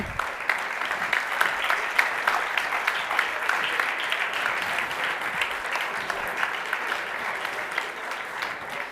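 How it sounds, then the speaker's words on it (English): A crowd at Forum Rolex EPFL claps steadily in sustained applause, a dense patter of many hands that continues without pause throughout. "They really deserve the applause."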